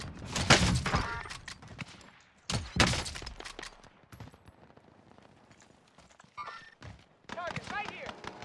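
Gunfire in the Warzone video game, with two loud close bursts early on and scattered fainter shots later, heard alongside game voice lines.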